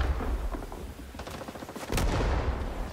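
Gunfire in Rising Storm 2: Vietnam, a video game: a string of sharp, close rifle and submachine gun shots with distant battlefield firing behind, then a louder burst near the end.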